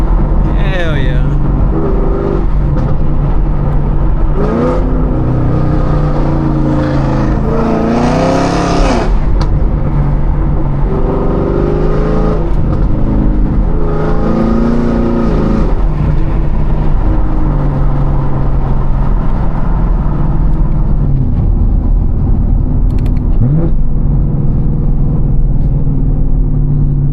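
A 2017 Chevrolet Camaro SS drives from inside the cabin with a constant low engine drone. Several rising rev sweeps climb and fall back, heard up close and loud.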